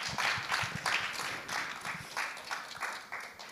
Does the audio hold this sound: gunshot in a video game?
no